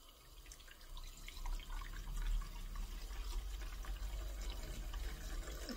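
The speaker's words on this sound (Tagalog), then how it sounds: "So now guys, we're going to put the water." Water pours into a Medisana AH680 humidifier as a steady, faint trickle and splash, continuous with small irregular drips and no voices.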